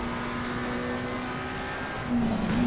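A McLaren 720S race car engine holds a steady high drone around Oulton Park in Assetto Corsa Competizione, running flat out at constant pitch, then rising slightly as the revs climb near the end.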